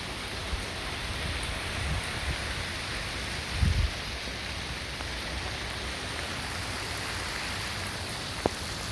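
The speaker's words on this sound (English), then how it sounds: "And it is still raining quite heavily." Heavy rain pours down steadily during the 2022 Gold Coast, Queensland floods, a dense even hiss with a brief low thump partway through and no voices.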